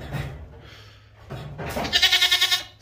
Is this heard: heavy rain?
no